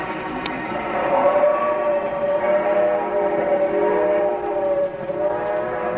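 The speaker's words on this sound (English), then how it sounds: "This was a very busy yard, with many switch engines working, cars moving back and forth" Steady rumble of a busy 1950s Southern Pacific freight railroad yard, switch engines working as freight cars roll back and forth, with a continuous harmonic tone like a distant horn or wheel squeal running throughout, no talk.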